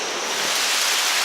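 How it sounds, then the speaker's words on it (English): Water rushing down the rock faces and stepped pools of Kuang Si waterfall in a mountain area, a steady broadband wash heard close and loud, alone for a brief moment. "the water is just kind of flowing down this entire rock, this entire mountain area"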